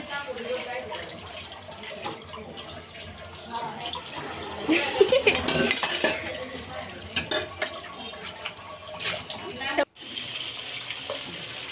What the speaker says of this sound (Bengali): আমার চাচি অনেকগুলো প্লেট বাটি হয়েছে ওগুলো ধুয়ে নিচ্ছে